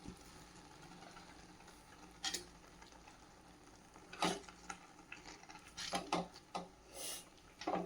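Palak spinach thokku being stirred in a pan, a spoon scraping and clinking against the metal in a few scattered bursts over a low kitchen background, no voices.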